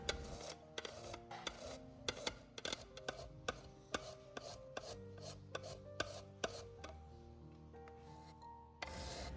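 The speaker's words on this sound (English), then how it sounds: "Here is 1 pound taro, so just grate it." A pound of raw taro root is scraped over a grater in uneven, close strokes. Each rasp is short and there are small gaps between them.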